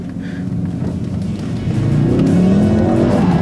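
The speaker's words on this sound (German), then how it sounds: "Man blieb die meiste Zeit voll auf dem Gas und nutzte das Lenken, um den Winkel vom Drift recht einfach zu steuern." A 2016 Ford Focus RS with 350 hp held at full throttle while drifting: a loud, steady engine roar that climbs in pitch toward the end, with tire noise underneath.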